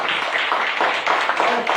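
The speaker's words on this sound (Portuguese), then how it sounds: "Vamos dar uma salva de palmas bem forte." A church congregation claps loudly during a service, a continuous, fairly close burst of many hands clapping that fills the short moment.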